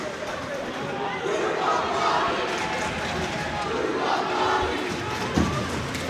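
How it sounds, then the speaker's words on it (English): Home crowd at a varsity ice hockey game between Abington Green Wave and South Shore Voc Tech Vikings roars after a hit, a sustained rising cheer filling the rink, with a commentator's voice running over it. "Fires up the Abington crowd"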